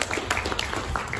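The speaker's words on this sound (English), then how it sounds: "giving us a round of applause" Brief audience applause at an outdoor Pops and a Picnic concert, scattered claps from a modest crowd heard at a short distance.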